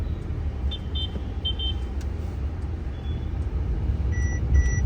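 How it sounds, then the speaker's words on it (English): A 2024 Mercedes-Benz E-Class sounds its blind spot assist warning, several short, clear electronic beeps over the steady low rumble of the moving car's cabin. "You have the blind spot assist which just beeped right now."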